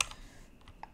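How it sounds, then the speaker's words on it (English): Computer keyboard keys click sharply, a burst of quick taps at the start followed by a few separate presses, close and crisp in a quiet room. "Another thing we can do is hold S down on our keyboard"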